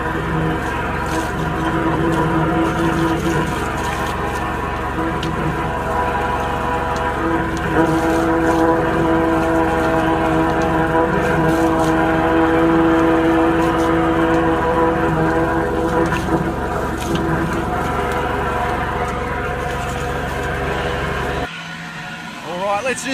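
A high-pressure drain jetter blasts a blocked household drain, a loud, constant engine-like roar with a steady droning hum that runs unbroken for over twenty seconds before cutting off sharply near the end, with some talking over it.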